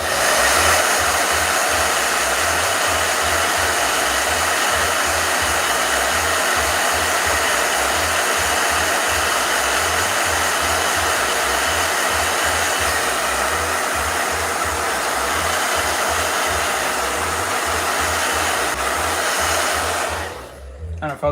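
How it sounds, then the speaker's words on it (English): Blow dryers running continuously, a loud steady whooshing motor roar with a pulsing low hum that holds for about twenty seconds before cutting off abruptly at the end. "Blow dryers."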